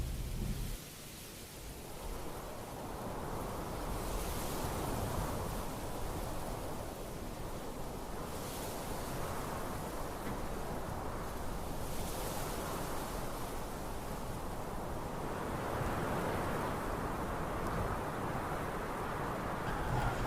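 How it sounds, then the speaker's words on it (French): Wind blowing through a natural rock landscape in the VR game Brink Traveler, a steady broad rushing noise that rises and falls in gentle gusts, distant and fairly soft with no talk. "On entend souvent le bruit du vent"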